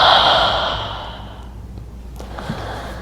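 A long, breathy exhale out through the mouth at the close of a full-body yoga flow, loud and near at first, then fading into quiet room tone.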